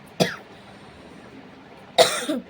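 Two separate coughs, close by, the first short and sharp, the second a longer hacking burst about two seconds later, with quiet between.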